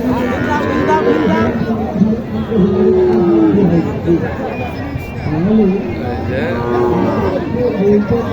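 Sahiwal calves and cattle at a cattle market low and moo amid a crowded, noisy bustle, with several people talking and chattering nearby throughout.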